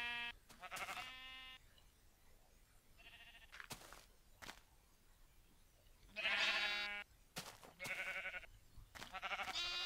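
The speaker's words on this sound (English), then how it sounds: "I've got some sheep here that I am currently working on breeding and sharing" Sheep bleat in modded Minecraft during breeding, several separate calls scattered across a quiet background with short clicks between, close and fairly loud.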